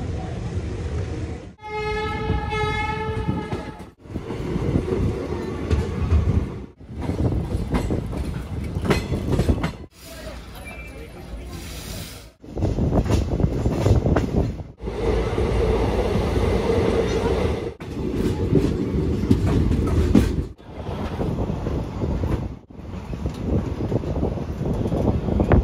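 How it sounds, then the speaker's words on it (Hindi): The Kisan Express passenger train rolls along after leaving Hisar, a loud steady rumble with rhythmic clattering of the carriages and a short horn-like tone early on, heard from on board across the whole stretch. "8 मिनट लेट चल रही है अपनी किसान एक्सप्रेस, अब डिपार्चर हुआ हिसार से"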